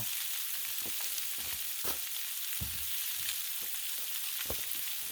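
Garlic sizzles steadily on a Blackstone griddle with a loud, even hiss throughout, broken by a few soft spatula scrapes and taps.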